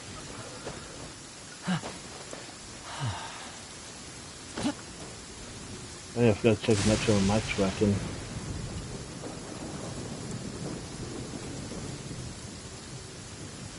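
A steady wash of rain falls in Genshin Impact, with a deep thunder rumble swelling midway, while someone talks over it.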